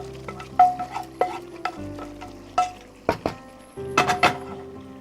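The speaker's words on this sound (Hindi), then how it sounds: "और इसमें इस चिकन को बटर के साथ और सारे मसालों के साथ डाल देंगे" Chicken with butter and spices stirred in a hot pan, with several sharp scrapes and clunks of a spoon against the metal over a soft, steady sizzle, irregular and close.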